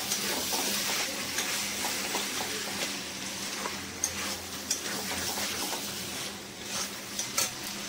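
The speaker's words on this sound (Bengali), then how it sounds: "তেল ছেড়েছে কেমন মাংস থেকে। এটাকে ভালো করে কষিয়ে নেবো।" Chicken pieces for do pyaza are stir-fried in the oil released from the meat, giving a steady close sizzle with intermittent spatula scrapes and clinks against the pan.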